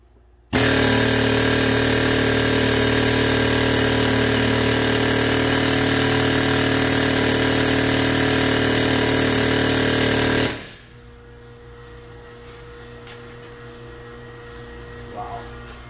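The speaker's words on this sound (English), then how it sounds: "So far I've been air chiseling this thing and hitting it," Pneumatic air chisel hammering hard on a seized front wheel bearing of a 2016 Buick Enclave, a loud continuous rapid rattle lasting about ten seconds before cutting off to quiet shop background.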